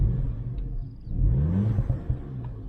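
A new VW Polo GTI engine revving in sport mode, a close, loud rumbling rise and fall of the motor with low exhaust burbles crackling as the revs drop.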